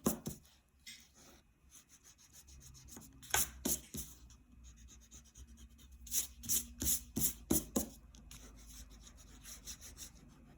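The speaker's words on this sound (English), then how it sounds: "Now I'm going to erase off these, the sun and all these things" An eraser rubbed on paper to remove a pencil drawing, short quiet scrubbing strokes in uneven clusters, close and soft, with pauses between bursts.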